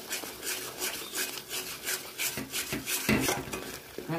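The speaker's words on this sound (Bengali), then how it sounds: "মশলাটা ভালো করে কষে নেব।" Spice masala with yogurt is stirred and scraped in a pan while sautéing for echor chingri, a repeated rasping, rubbing rhythm with occasional clinks of the utensil against the pan.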